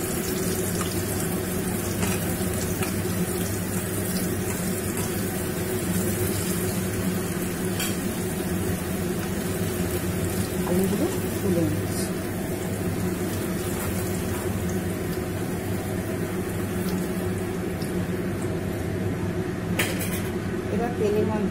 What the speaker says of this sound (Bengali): এবার আমি তেলের মধ্যে আলুগুলোকে দিয়ে একটু ভাজা ভাজা করে নিলাম।